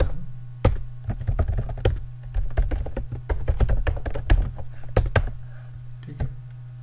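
Steady typing on a computer keyboard while entering a database record, a close run of quick key taps with a few heavier strikes, heard alone without talk.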